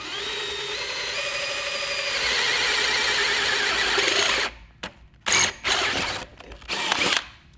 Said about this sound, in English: So we drilled some holes to make the steering radius a little bit tighter